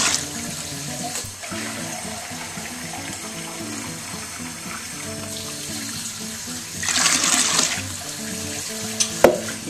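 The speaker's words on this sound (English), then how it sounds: "we'll start adding the water." Tap water runs steadily into a plastic beer kit fermenter being topped up toward 23 litres at around 25 degrees, a continuous close splashing and gurgling that swells louder near the end.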